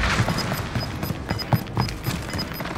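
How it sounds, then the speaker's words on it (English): Precision airstrike explosions pound during a Warzone Caldera quads match, a rapid cluster of distant thuds and crackling bursts under steady battle noise, while an alert chime pings repeatedly. "Enemy precision airstrike."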